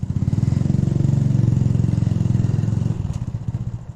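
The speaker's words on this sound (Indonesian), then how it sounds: "Nah, kita coba knalpot R9 ya." A Honda Revo FI motorcycle fitted with an R9 racing exhaust idles close by, a steady, throbbing low rumble with a rapid pulsing beat that eases slightly toward the end.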